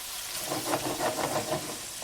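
Oil sizzling and crackling in a pan with wine evaporated from frying garlic, a steady hiss with small popping bursts, close and fairly soft, no talking.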